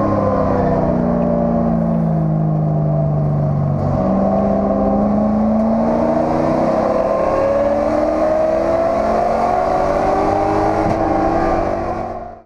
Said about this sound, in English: the thundering V8 American muscle car around the infield section and, of course, the 31-degree banking here at Daytona